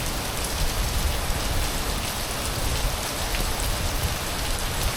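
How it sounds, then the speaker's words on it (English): Rain pouring down at an Orlando resort near the pool: a dense, steady hiss of drops hitting surfaces, even and unbroken, with no voices. "as soon as we got there, within a few minutes, it started to rain"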